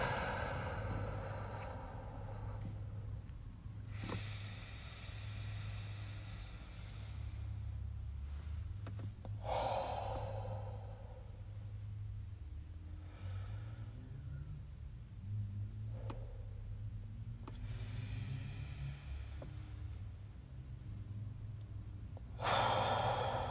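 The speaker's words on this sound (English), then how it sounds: "Get all that air out so that for the next inhale, you're breathing fully in and then fully out." Slow, deep breathing during a guided breathing exercise, with long audible inhales and exhales and occasional sighing releases, soft and close over a low background rumble, with no talking.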